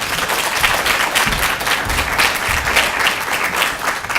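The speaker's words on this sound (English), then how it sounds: "Please join me in a warm applause." A seminar audience gives warm, steady applause, a close, continuous wash of clapping hands that holds at an even level for a few seconds.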